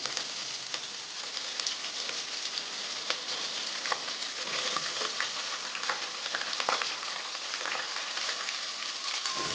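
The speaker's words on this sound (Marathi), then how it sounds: "हा व्यवस्थित तेलामध्ये शिजून घ्यायचा आहे आपल्याला, सोनेरी कलर येईपर्यंत" Sliced onion and two or three green chillies fry in hot oil for vegetable pulao, a continuous soft sizzle with occasional crackles and faint stirring, steady and alone without talk.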